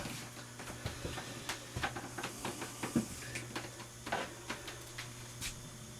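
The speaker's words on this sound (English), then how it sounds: "She's rattling her tail." A female Bothrops pit viper vibrating her tail, producing faint, rapid irregular ticks and rustles against a steady background hum, close by and fairly quiet.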